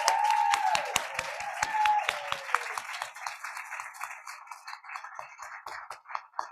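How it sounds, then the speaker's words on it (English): Applause at a speech pathology hooding and pinning graduation ceremony, families honored by a roomful of clapping, loud and sharp at first with some distinct nearby claps, then thinning and fading over several seconds. "let us honor you and give you rounds of applause"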